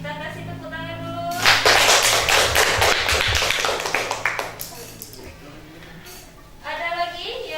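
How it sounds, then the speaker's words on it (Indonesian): An indoor audience of students breaks into a burst of brisk, loud clapping that lasts several seconds and then tapers away, with a voice talking before and after. "Oke, kita kasih tepuk tangan dulu."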